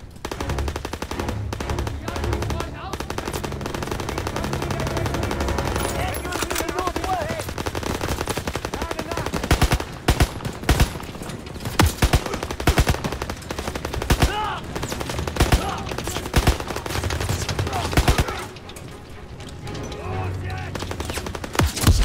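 Machine gun fire in the World War II shooter Call of Duty WWII rattles in loud repeated bursts with short gaps, mixed with other battle sounds over roughly twenty seconds.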